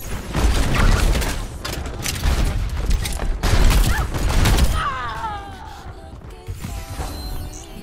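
Explosion in Overwatch: a stretch of loud, dense crashing and booming blasts with rumbling and clatter, then a quieter tail of game effects as a voice talks.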